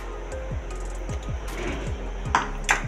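A spoon scooping chopped raw green mango into a glass for a mojito, a run of light clinks and taps against the glass, close and fairly quiet.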